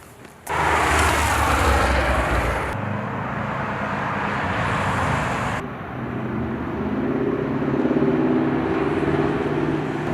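Race car working a slalom course, engine roaring loud and steady close by, with a sharp shift in tone partway through as it changes gear through the cones.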